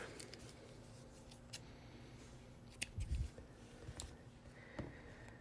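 Scissors snip through crochet yarn while tying off round five of a crocheted headband ear warmer, a quiet cluster of close, soft crisp cuts around the middle against a faint room background.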